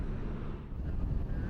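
Wind gusting against a microphone outdoors at night during a protest encampment at College Green Park in Iowa City, a steady low buffeting rumble that fills the whole moment with no voices.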